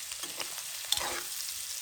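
Ingredients sauté in a hot pan, giving a steady close sizzle with faint stirring scrapes over a short stretch.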